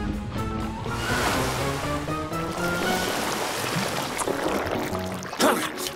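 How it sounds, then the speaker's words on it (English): A cartoon water spray gushes to wash slime off a car, a steady rushing spray sitting under background music and brief character vocal sounds, with a short burst near the end. "Morphle, spray their slime away with your water!"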